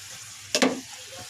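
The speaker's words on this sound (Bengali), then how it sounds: "যে পেঁয়াজটা ভাজা ভাজা হচ্ছে" Onion fries in hot oil in a pan after fish, a brief sharp sizzle burst as it is stirred, rising suddenly and fading within a second over a low background hum.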